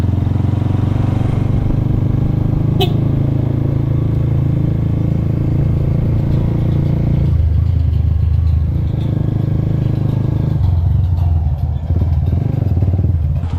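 A motorcycle engine drones steadily while riding, loud and close, with rattling and changes in engine pitch as it shifts and eases off.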